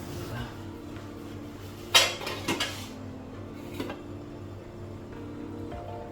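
A lid is set on a pot of Tangra fish curry with eggplant, making a sharp metallic clatter followed by a couple of smaller clinks against a quiet kitchen background.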